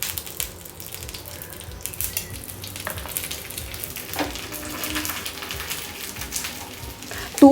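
Ghee sizzles and crackles steadily in a pan as a bhakri flatbread fries, a soft close hiss with small pops and a brief clatter near the end.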